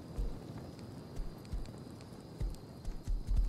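Horse hooves clip-clop in the survival video game Rust, a series of soft irregular thuds at close range over a low ambient backdrop, with no talking.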